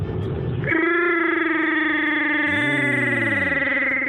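A man imitates Chewbacca's roar, producing a sustained, growling Wookiee-like howl that rises and then warbles for a few seconds, heavily processed with distortion and chorus effects.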